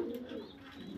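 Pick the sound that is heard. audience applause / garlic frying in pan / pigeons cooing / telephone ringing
pigeons cooing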